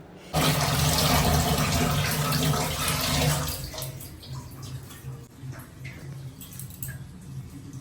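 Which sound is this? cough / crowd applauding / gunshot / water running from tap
water running from tap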